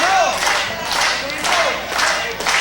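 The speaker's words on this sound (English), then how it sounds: "Crowd here coming up for Chet Sterling, one of the most popular wrestlers in the sportatorium" A wrestling crowd in a sportatorium cheers for popular wrestler Chet Sterling during a match, a loud, close wash of shouting and cheering that swells and dips in waves.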